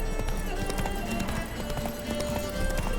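Roach, Geralt's horse in The Witcher 3, gallops with a fast, steady clip-clop of hooves close by, running under game music and ambient noise.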